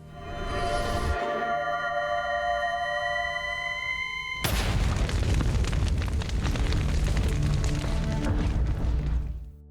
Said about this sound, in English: The moment she fires, the bomb detonates right in front of Connor